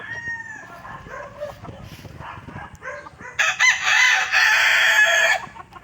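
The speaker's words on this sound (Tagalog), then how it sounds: "daming manok dito mga boss" Several roosters crow loudly and close by, with chickens clucking and scattered farmyard noise in the background.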